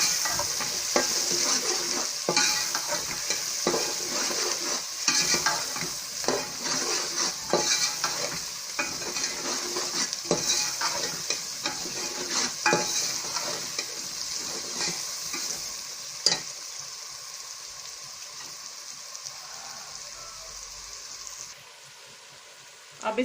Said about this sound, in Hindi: अब इसको इसको थोड़ी देर मिक्स करके भूनेंगे